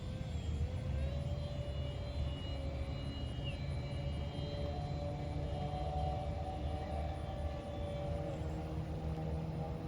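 A small AeroScout RC airplane drones steadily overhead, its electric motor a high sustained whine that shifts pitch slightly as it passes, moderately distant and continuous with no talk.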